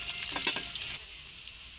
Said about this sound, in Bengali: সুন্দরভাবে উল্টিয়ে ভেজে নিচ্ছি